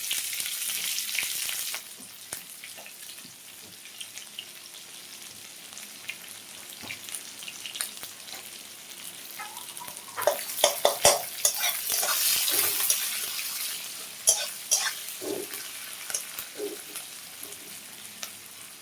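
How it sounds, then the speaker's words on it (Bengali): Onions and cumin seeds fry in hot oil in a pan, a steady sizzling hiss broken by bursts of stirring, scraping and clinks of a spoon against the pan. "পেঁয়াজগুলো ভাজা হয়ে গেছে"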